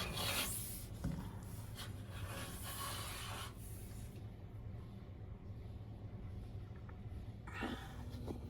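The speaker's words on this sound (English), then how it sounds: "And now it's going to be grinded and sanded down." Steady rasping and rubbing of sanding on a Nissan 2000 GT body panel that has been filled three times, continuous and close, with a few sharper scrapes near the start and near the end.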